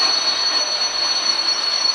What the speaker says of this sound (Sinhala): දුම්රිය පාස් කරන් යන සීන් එකක් තියෙනවා.